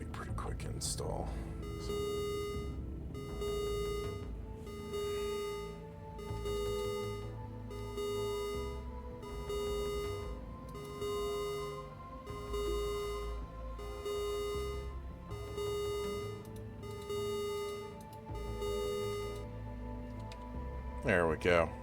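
A pressure alarm in the space game Ostranauts beeps loudly in a steady, regular repeating pattern, one tone pulse after another for about twenty seconds, close and dominant over a low background hum.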